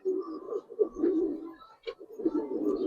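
Giribaz pigeons coo in a loft, a close, steady run of soft throaty rolling calls with a brief pause midway before the cooing resumes.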